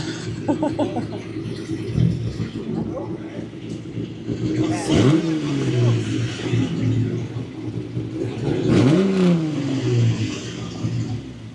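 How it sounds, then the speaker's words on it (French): A car engine rumbles and revs repeatedly at Daikoku PA in Japan, rising and falling in pitch nearby, with voices talking in the background. "Je vous laisse profiter des vocalises du moteur."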